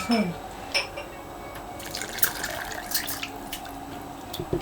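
Water is poured into flour and eggs for beshbarmak dough, giving a soft trickling, splashing fill with light drips and clinks at close range.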